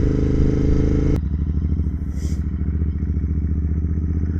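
A cafe racer motorcycle rides through a neighborhood, its engine running steadily with a rhythmic exhaust pulse and a brief clatter partway through, continuous and fairly close.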